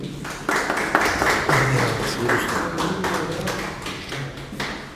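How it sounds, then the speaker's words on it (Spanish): A small audience at a Spanish-language conference talk claps to welcome the speaker, uneven, loose clapping close by with some heavier taps and thumps, no one speaking. "Un aplauso,"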